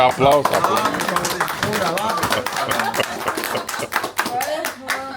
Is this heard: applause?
yes